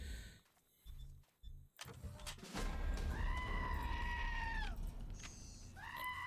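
Goats bleat in the video game Wasteland 2, several drawn-out, wavering cries in a row over game background noise, loud and close, with a brief rumble before them.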